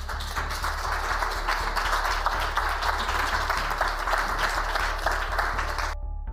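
Audience applause fills the room, dense continuous clapping from many hands at a steady loud level, cutting off abruptly near the end.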